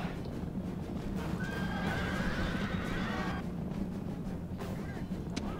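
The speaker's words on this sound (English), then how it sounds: "You can hear the horses die." Horses neigh and whinny as cavalry are cut down in a Rome: Total War battle, with a Carthaginian army fighting off a Thracian attack; several shrill whinnies ring out over a constant clamour of combat and hooves.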